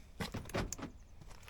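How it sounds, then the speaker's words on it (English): A VW van's door being opened at close range: a few clunks and rattling latch sounds in quick succession, followed by faint handling noise, with no talking. "open the door. It helps."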